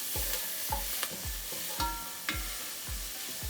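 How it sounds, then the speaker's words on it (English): Chopped vegetables sauté in a pan for a Bolognese sauce, a steady sizzle broken by regular scraping stirs of a utensil roughly every half second, close up and without speech. "you just wanna saute these up for about 5 to 8 minutes until they're nice and soft"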